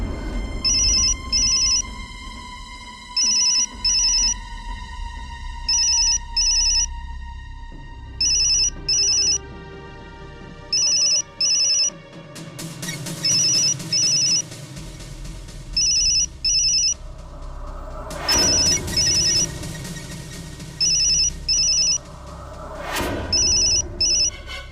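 A telephone rings on and on in a repeating electronic ringtone pattern, loud and close, over dramatic background music with a few sharp hits.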